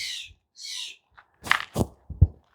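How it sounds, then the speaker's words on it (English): Steller's jays squawk at dawn in harsh, raspy bursts, a few close calls followed by sharper, louder squawks and knocks, with quiet gaps between. "But the Stellar's Jays, they will keep squawking."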